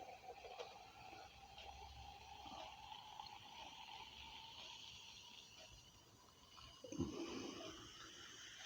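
Coca-Cola Energy drink pours from a can into a glass, a steady faint fizzing trickle building to a louder gush near the end, with no voices.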